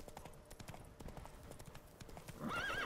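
Geralt's horse Roach in The Witcher 3, hooves clip-clopping in a quick steady rhythm before a loud whinny rises at the end, close and clear.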